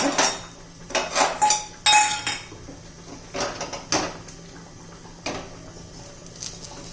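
A lid is lifted off a cooking pan with a few close metallic clinks and clatters in short bursts, followed by quieter scattered utensil taps.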